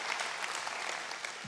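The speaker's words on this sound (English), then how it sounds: "I think you wanted to clap." A brief burst of dense clapping from a church congregation in Idaho during a commissioning of a new church plant, moderately loud and even, with no voices over it.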